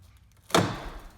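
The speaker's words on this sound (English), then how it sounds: "carefully close the door, making sure it's going to clear" A car door on a 2007-2014 Ford Edge swings shut with a single solid thud, followed by a short ringing decay in a quiet setting.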